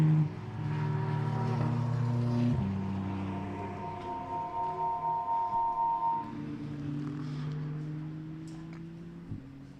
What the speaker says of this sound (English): the noise of the cars is just glorious to stop and listen to